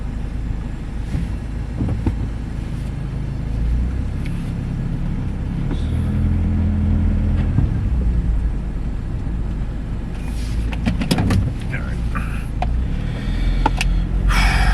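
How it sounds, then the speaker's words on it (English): Steady traffic rumble from cars passing on a nearby road, a continuous low wash of engine and tyre noise with a few brighter swells from closer vehicles, no voices. "There's cars coming left and right."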